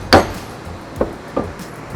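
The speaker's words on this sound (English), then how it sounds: "You can take your hammer, give it a couple taps to make sure that it's seated." A hammer taps a lower suspension support into place while a 2024+ Toyota Tacoma level and lift kit is installed: one firm strike and then two lighter taps, close and alone.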